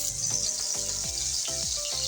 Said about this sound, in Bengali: মাখিয়ে বেগুনগুলো ভেজে নেব আমি